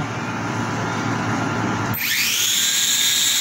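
The small motors of a newly bought toy drone spin up with a sudden high, rising whine that stays loud and steady and has a slight pulsing to it. There is no talking.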